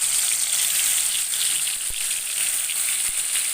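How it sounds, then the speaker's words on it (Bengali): Pieces of kalibaush fish fry in hot oil in a pan, giving a steady, bright sizzle with faint crackles and a couple of soft pops. "তেল গরম হয়ে গেছে, এবার মাছগুলি এক এক করে ছেড়ে দিব।"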